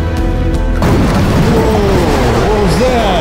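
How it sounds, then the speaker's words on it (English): A huge explosion booms loudly inside an abandoned prison, a sudden heavy blast followed by a sustained roaring rumble that fills the space. "There's a huge explosion or something."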